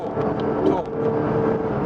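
A Porsche 718 Boxster GTS 4.0 accelerating in sport mode, its engine a continuous throaty roar with rising and shifting tone, heard from inside the cabin under light wind noise.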